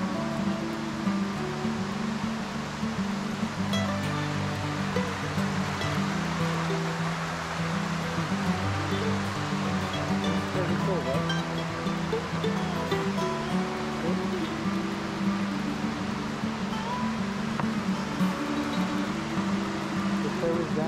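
River water flows steadily past a water wheel in Rastoke, Croatia, a continuous loud rushing wash with no breaks, close by.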